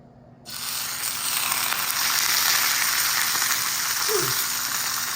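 Picanha laid fat cap down on a Traeger Timberline XL grill set to medium high, erupting into a loud, steady sizzle after a brief quiet start and holding strong without talk.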